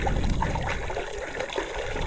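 Water poured out on hot, dry forest ground for monkeys, a steady splashing and trickling stream that fills the short moment without breaks and with no voices.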